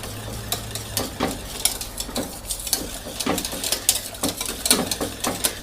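A spoon stirs a mixture in a bowl or pan to dissolve the ingredients while cooking a home chicken gratin dish, with steady rhythmic scraping and clinking strokes close by throughout.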